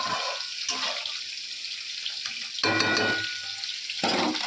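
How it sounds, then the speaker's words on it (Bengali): Fish fries in a pan with a continuous bright hissing sizzle, which swells in louder waves as the oil spits. "আর এখানে মাছ ভাজা হচ্ছে"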